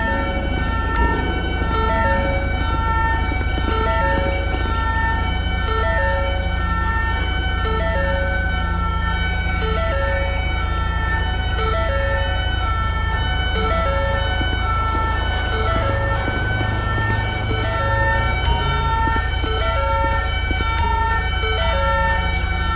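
A police siren in the video game GTA with the LSPDFR mod wails continuously and loudly over a deep engine rumble, its tones cycling steadily for the whole stretch with no talk.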